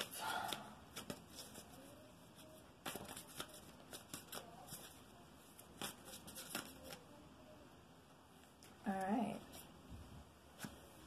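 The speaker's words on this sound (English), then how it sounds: "Alright, one more shuffle." Tarot cards being shuffled in quick, soft riffles and taps, close up and quiet, with a brief clatter near the end.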